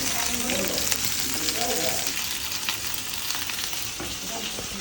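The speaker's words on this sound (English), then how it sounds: "I just fried some fish, anjan and some prawn." Fish, anjan and prawns fry in hot oil with a steady, crackling sizzle that fills the clip, fairly close, while a voice talks faintly underneath.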